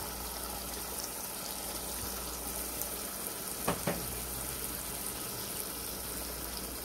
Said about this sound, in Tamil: இந்த பேஸ்ட்டை ஒன்று சேர்த்துட்டு இதை ஒரு டூ மினிட்ஸ் நம்ம ஃப்ரை பண்ணிடலாம்